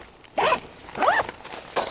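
A triple zipper on the door of a Helinox Tactical Nona Dome 4.0 tent is pulled open in a few quick, close rasping strokes with short pauses between, no voices present.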